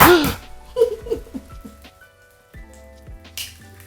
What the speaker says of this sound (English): So we're gonna fry some eggs.